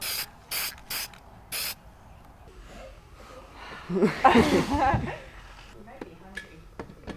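A spray can hissing as screw heads are painted black during a bus conversion awning install, one loud burst of spray after someone speaks, with clicks and handling noises around it.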